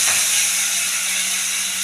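Cumin seeds sizzle in a spoonful of hot ghee in a kadai, a steady bright hiss with a sharp burst at the start, close and continuous.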